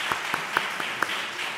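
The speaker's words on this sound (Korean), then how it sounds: "박수로 이렇게 환영했으면 좋겠습니다" A church congregation claps briefly to welcome three families, a dense wash of applause with a few sharper claps standing out, heard alone.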